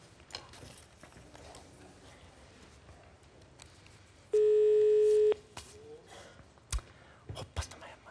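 A telephone ringing tone on an outgoing call sounds once as a single steady electronic burst of about one second, clear and loud between quiet clicks and soft background talk.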